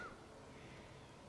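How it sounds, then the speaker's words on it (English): A raven calls once in the woods, a short harsh croak at a distance, faint over a low background hiss. "You can hear the raven behind me."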